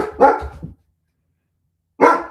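A house dog barks twice, close and fairly loud, with about a second of silence between the barks.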